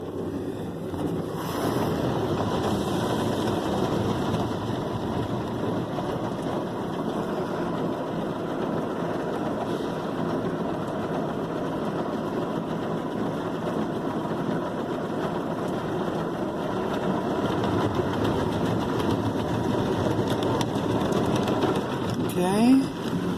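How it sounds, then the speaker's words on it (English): Brushes spin inside a Ryko Softgloss Maxx car wash at an Exxon/Circle K station, a steady close whooshing, rumbling wash of noise that runs unbroken for the whole stretch. "Now the brushes are spinning."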